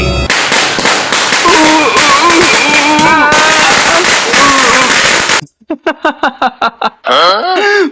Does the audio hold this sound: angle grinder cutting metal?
no